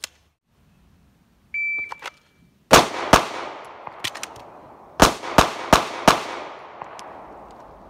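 Several sharp pistol shots from a Glock fitted with a Timney Alpha trigger, fired outdoors at a range, crack out one after another with uneven gaps and ring away after each report, loud and alone without talk.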